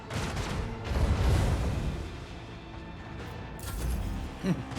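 A weapons salvo in the Warhammer 40,000: Rogue Trader video game erupts as a heavy, rumbling barrage, peaking early with deep booms, easing into a low rolling din, then ending with a sharper blast.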